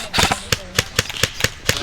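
Airsoft gun shots crack out in a quick, uneven string of about six sharp, loud pops during an outdoor airsoft game, with voices talking among the shots.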